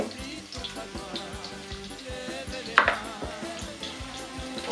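Onions going into hot oil in a pot for a potato rice zembrocal, giving a steady wet sizzle and crackle with a sharper splash partway through, close by and alone.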